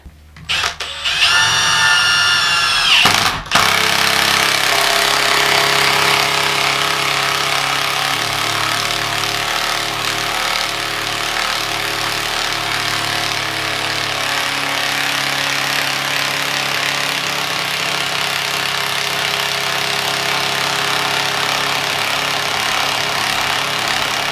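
A Milwaukee M18 Fuel 1/2-inch mid-torque impact wrench with friction ring, running on speed 2 in one long continuous hammering burst after a short start, loud and close with no talk.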